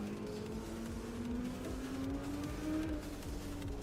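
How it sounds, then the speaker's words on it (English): Race cars in Assetto Corsa Competizione roar down a straight at Oulton Park. The engine drone is steady and continuous, and its pitch rises gradually as the cars accelerate, with no talking over it. "Those cars sound amazing coming down these straights"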